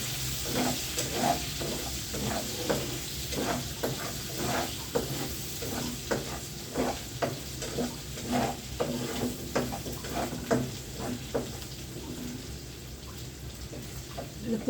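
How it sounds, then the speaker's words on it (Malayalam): Onions and garlic sauté in a pan for a fish pickle, a steady low sizzle broken by rhythmic scraping stirs of a spoon against the pan, fairly close and moderate in level. "വെളുത്തുള്ളി ഒന്ന് വഴണ്ടി വരട്ടെ"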